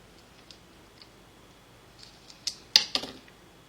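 Scissors cut a small piece of paper in half during a two-tier eclipse papercraft technique, giving a few faint, quick snips close by against a quiet room.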